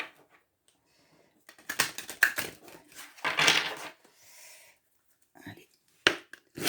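Tarot or oracle cards being shuffled by hand, giving bursts of crisp riffling and tapping that come and go between brief pauses, close up and fairly quiet.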